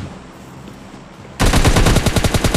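Automatic weapon fire in PUBG Mobile Lite: after a quiet stretch, a loud, sustained burst of rapid shots bursts in partway through and keeps hammering to the end.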